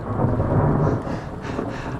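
Thunder rolls through a storm during outdoor porch construction, a loud, low, continuous rumble that swells and then eases over two seconds with no voices.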